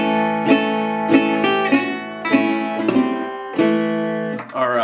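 A guitar plays a seven-note harmonized Delta blues lick, with ringing plucked chords struck in a loose sequence and left to sustain, close and clear with no talking.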